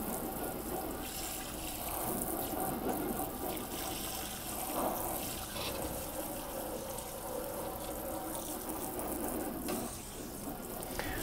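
Tap water runs steadily into a sink while a soil sample is washed in a lab, a constant close splashing flow for the whole stretch with no talk.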